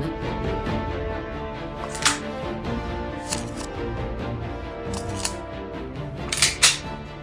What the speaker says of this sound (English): Now pressing R to reload your gun